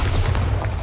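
Bombarda spell explosion in Hogwarts Legacy, a short deep booming blast with a heavy low rumble that fills the whole brief moment.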